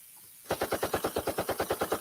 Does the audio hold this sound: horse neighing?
no